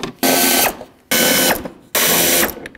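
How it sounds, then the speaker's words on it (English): A ratchet wrench loosens 10 mm timing cover bolts on a 1999-2003 Toyota Solara engine, giving three loud, close bursts of rapid clicking with brief pauses between them. "Next, I'm going to start removing timing cover bolts. There are 10 millimeter bolts all the way around."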